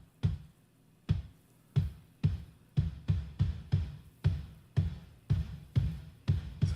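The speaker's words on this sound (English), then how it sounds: "Okay, so there's definitely reverb in there." A dozen punchy drum hits land in a steady beat, each followed by a short reverberant tail cut off abruptly by a gate effect before the next strike.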